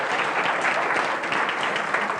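A conference audience at a startup event claps for itself in steady, dense applause that fills the room, continuous and fairly loud without any voices over it.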